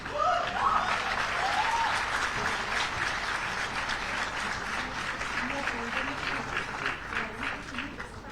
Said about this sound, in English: A huge round of applause for the winners, Robin Ahuja and Lavanya Puri from Deen Dayal Upadhyay College.